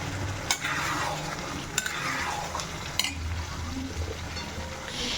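Green peas tumble into a frying pan of cooking chicken and spices, then get stirred with a utensil: a steady frying sizzle runs throughout, broken by a few sharp scraping clicks of the spoon against the pan.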